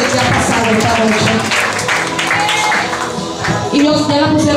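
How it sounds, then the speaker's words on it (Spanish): A church congregation applauds during a worship service, loud and close clapping mixed with cheering voices and music, swelling again toward the end. "Den un aplauso al Señor por estas 5 vidas que le dieron que sí a Jesús"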